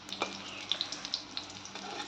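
Puri filling fries in plain oil with no gram flour coating, a quiet, steady bubbling sizzle marked by a few small crackles and pops, heard close and without speech.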